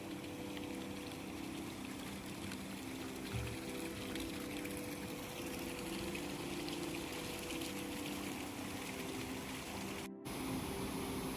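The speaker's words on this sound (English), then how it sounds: "The trail follows the Oued Farda river through cedar and oak, water running alongside you the whole way." The Oued Farda river running through cedar and oak woodland in the mountains near Chefchaouen, Morocco, a steady broadband rush of flowing water, constant and even for the whole stretch, with no voices.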